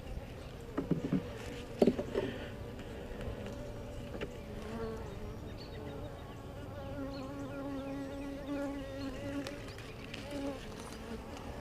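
Honey bees buzz steadily around an opened backyard hive during a spring inspection, a dense continuous hum with a few louder bumps and knocks near the start, no talking.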